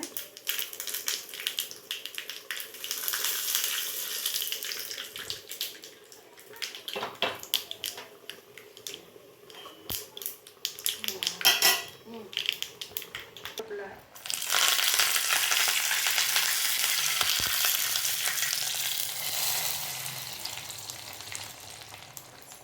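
Dried red chilli frying in hot oil for a bottle gourd sambar tempering, a steady close sizzle with crackles and utensil clatter, growing louder and denser in the second half.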